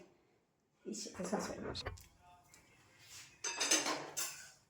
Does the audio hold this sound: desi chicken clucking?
no